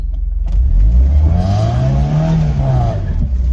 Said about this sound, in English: Are you ready for my big skid?